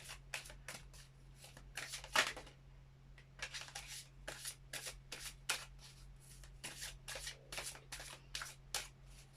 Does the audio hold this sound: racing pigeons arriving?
no